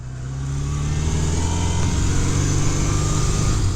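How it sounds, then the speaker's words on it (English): A 1971 Honda CB750 motorcycle engine runs steadily close by, its smooth continuous rumble building slightly in the first half second and then holding even and loud. "Great running bike, nice and smooth and fast."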